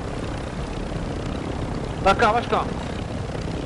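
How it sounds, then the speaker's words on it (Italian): A helicopter in a video game drones as a steady, even whir throughout, with a short burst of speech briefly over it midway. "Questo andrò con l'elicottero qua."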